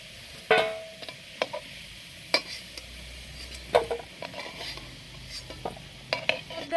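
Fried potatoes are scraped and lifted from a sizzling pan of oil with a metal spatula, sharp clinks and scrapes landing irregularly over a soft, steady frying hiss.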